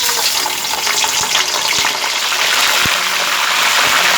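Fish fries in a generous amount of cooking oil in a pan during Cambodian home cooking, giving a loud, steady sizzle with occasional soft knocks and no talking.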